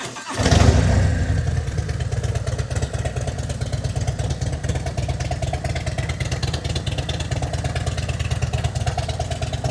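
A Stage 3 Harley-Davidson Road Glide ST with a Vance and Hines 2-into-1 exhaust fires up with a sharp starter burst, then settles into a loud, steady, rumbling idle up close for the rest of the clip.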